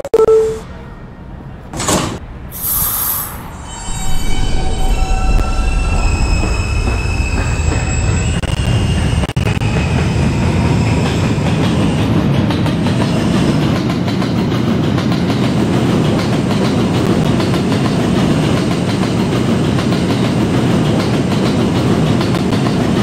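An R160B Alstom subway train in the Roblox game starts from quiet, with a brief chime and door tones, then builds into a loud, steady rumble of running wheels and motors that holds to the end.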